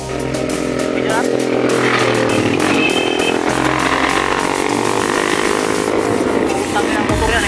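A motorcycle engine drones and revs nearby, loud and continuous, with people talking over it.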